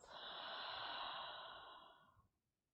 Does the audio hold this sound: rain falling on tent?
no